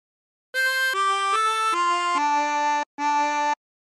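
A chromatic harmonica plays the opening phrase of What Shall We Do With the Drunken Sailor, six clean sustained notes stepping downward, the last after a short pause, solo and close.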